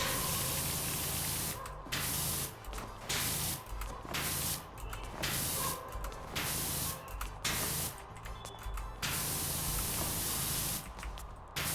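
Steady, loud hissing spray of a pressure washer in the video game Power Wash Simulator, running almost continuously with brief cut-offs as the nozzle is repeatedly released and squeezed again.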